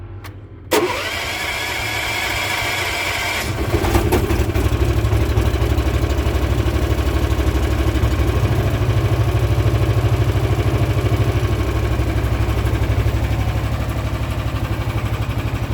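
An engine cold-starting at -10 Celsius on full choke and battery tender: a quick crank catches, then settles into a loud, steady, slightly rough idle that carries on throughout, close up with no talking.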